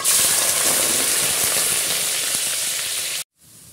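Chopped large onion hits hot cooking oil in a pan, giving a loud, steady sizzle and hiss that cuts off abruptly near the end.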